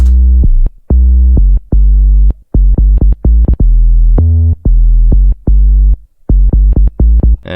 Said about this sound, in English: Then just add a sub bass.